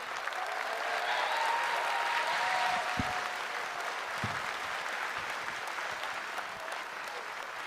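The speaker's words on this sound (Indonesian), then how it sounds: "Tepuk tangan untuk Eja Saputra" A stand-up comedy crowd claps for comedian Eja Saputra, a sustained wash of applause at even strength throughout, with a couple of brief low thumps and no speech.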